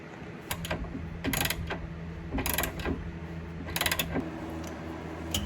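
Ratchet clicking in quick bursts while bolts on a Soul Function M brace are tightened under an Infiniti Q50, with several separate runs of sharp metallic ticks over a low steady hum, close and fairly loud.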